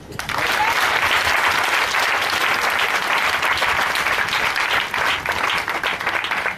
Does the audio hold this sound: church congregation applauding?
yes